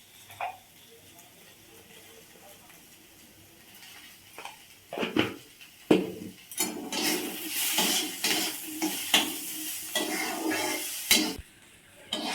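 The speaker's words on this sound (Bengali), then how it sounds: "এই দেখুন বন্ধুরা, কি সুন্দর ভাজা ভাজা হয়ে এসছে" Oats stir-fried in a pan, with quiet sizzling under scraping and clinking from a spoon against the pan that grows busier and louder in the second half.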